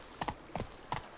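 Three close, distinct hoof strikes from Roach the horse in The Witcher 3: Blood and Wine, each a quick double clop at an even trotting rhythm.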